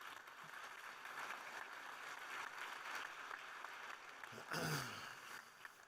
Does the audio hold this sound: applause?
yes